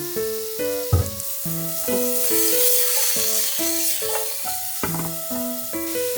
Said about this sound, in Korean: 소고기에 소금, 후추를 넣고 바로 넣어줄게요. 마늘과 함께 구워준다.